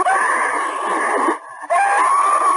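A woman screams in fear, one sustained, shrill cry that breaks off briefly and then resumes just as intensely, close and loud.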